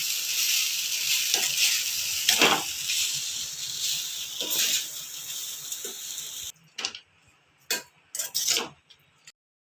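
Cooked rice stirred into a curry leaf mixture in a pan, with continuous sizzling and scraping for several seconds, then a few separate stirring scrapes with short pauses between them near the end.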